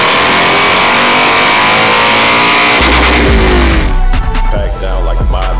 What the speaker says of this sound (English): This is what it sounds like when you give it way too much gas.